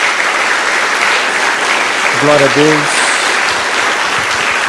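Church congregation applauding during a Portuguese-language worship service, a steady wash of clapping throughout with voices calling out praise over it.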